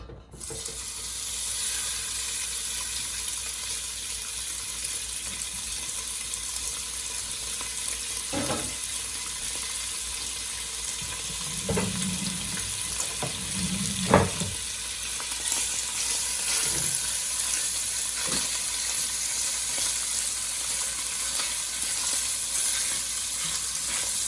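Half a pound of cut-up bacon fries in an oiled pan over medium heat, giving a continuous close sizzling hiss with a few scattered knocks and scrapes from a utensil.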